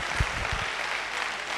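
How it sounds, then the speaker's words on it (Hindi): Audience applause at a lecture-style gathering, a steady wash of clapping with a few louder low thumps near the start, moderate and continuous throughout. "आप जैसा ऑडियंस कभी नहीं मिला जो बीच बीच में तालियां बजाते रहते हैं ना"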